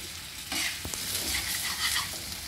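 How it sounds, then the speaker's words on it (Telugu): Chicken liver pepper fry sizzling on a tawa, a loud close hiss that jumps up sharply after a brief start, with a couple of quick knocks from stirring and no voices. "తవ్వా ఫ్రై అండి, దీన్ని తవ్వా ఫ్రై అంటారు."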